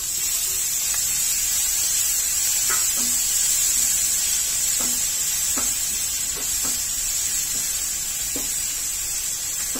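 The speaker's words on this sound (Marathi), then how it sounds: "तेलावर सर्व चांगलं व्यवस्थित परतून घ्यायचंय" Grated coconut, chili, ginger and coriander sauté in hot oil with a constant bright sizzle, broken now and then by soft clicks of stirring, and no voices.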